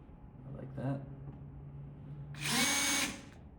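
Power drill bit grinding into a sheared screw in a metal porch door, a short whir followed by a longer, louder burst of drilling, close, with someone speaking between runs.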